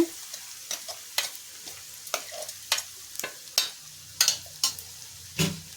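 Ground masala paste frying and being stirred in hot oil in a kadai, a run of sharp scraping and sizzling bursts at an uneven rhythm, close and moderately loud, with no talking.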